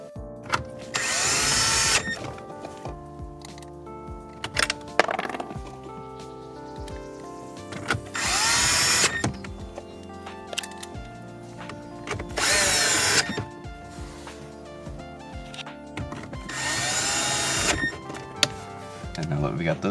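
Power drill driving in four bolts on a Chevrolet SS dash during a CarPlay head unit install, heard as four separate loud whirring bursts spaced a few seconds apart, with quiet handling noise and faint talk between them.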